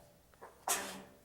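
A single sharp sneeze bursts out during a village board meeting, preceded by a faint inhale, fairly quiet in the room with no talking over it.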